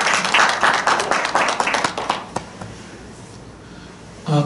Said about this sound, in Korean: 우리 큰 격려 박수 해드리겠습니다